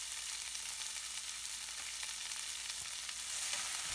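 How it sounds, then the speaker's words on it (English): Onion frying with cumin seeds in a pan gives a continuous, even close-up sizzle, with a few faint stirring knocks and no talking. "Add medium size onion 1 and cook it for 3 minutes."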